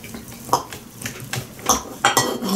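Metal cutlery scrapes and clinks against a plate as a fork holds baked pork and potato while a knife cuts through, a series of short irregular taps and scrapes, close and fairly loud, with no talk.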